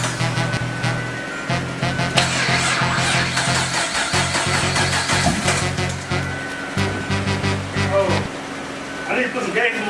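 An AGP twin turbo Camaro on jack stands on its first startup attempt, with a low mechanical drone of repeated cranking stretches continuing steadily alongside people talking nearby.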